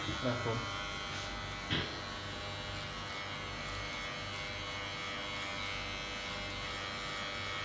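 Electric hair clipper fitted with a 0.5 guard cutting hair, a steady close buzzing hum running throughout, with someone speaking over it at the start.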